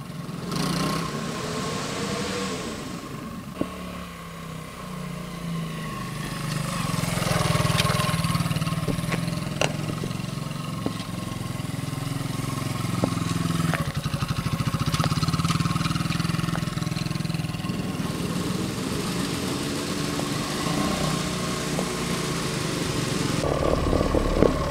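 A 1973 Honda SL125 motorcycle engine runs steadily close by, a continuous buzzing drone with slight rises and dips in revs and occasional clicks, heard alone without talk.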